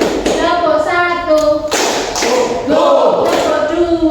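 A sharp hand clap, part of a classroom clapping game, rings out among chanting children's voices, with a second clap-like hit following a little later.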